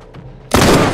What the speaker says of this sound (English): Turret! Damn it! He's got a fucking gun!